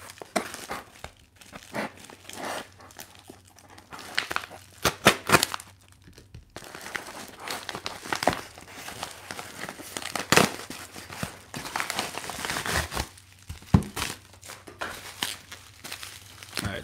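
Heavily taped mail package being torn and ripped open, with repeated crinkling, tearing bursts at close range, uneven in rhythm and fairly loud, with no talking.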